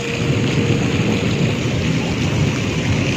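Heavy rain pours down over a village in a loud, steady roar, with deep thunder rumbling beneath it throughout.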